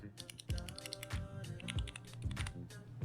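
Fingers type on a Super 16 macro pad from 1UP Keyboards fitted with Cherry MX Brown switches, a close, quiet run of soft thocking keystrokes in an irregular rhythm with no talk.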